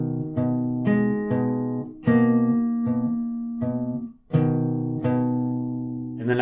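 An acoustic guitar plays part 3 of a song, a series of plucked bass-string notes each left ringing, about a dozen in even rhythm, clear and up close with no talk.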